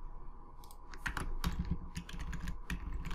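Keys clatter on a computer keyboard as shortcut combinations with Alt, Shift and the arrow keys are pressed, a brisk run of close, crisp clicks and taps with no talking.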